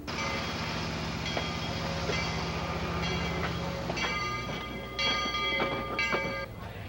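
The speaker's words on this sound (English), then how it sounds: "Old steam and diesel trains depart from here every 45 minutes" An old steam or diesel heritage train pulls out of the Snoqualmie railroad depot in 1981, a loud continuous rumble of engine and rolling cars with a bell ringing and ringing tones rising near the end.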